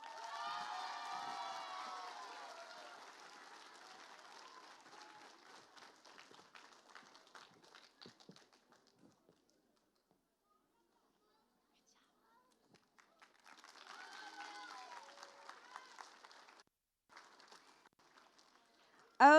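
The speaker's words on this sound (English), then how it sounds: "I'm just going to let their cheers and applause speak for themselves" An elementary school audience cheers and applauds a fifth-grade student receiving the Most Improved award at a spring celebration. Loud overlapping cheering and clapping fade after several seconds, followed by silence, then a second, shorter burst of voices and clapping.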